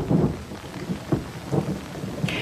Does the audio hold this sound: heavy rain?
yes